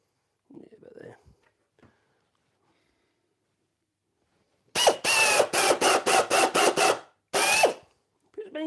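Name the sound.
driving screws into hanging cabinet door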